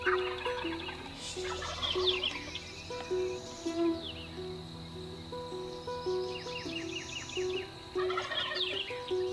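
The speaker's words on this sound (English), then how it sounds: "these two are going tit for tat, gobble, gobble, gobble, gobble, gobble" Osceola wild turkeys gobbling back and forth from trees in repeated bursts, one nearer and one farther off, over a steady background of birdsong and a low hum.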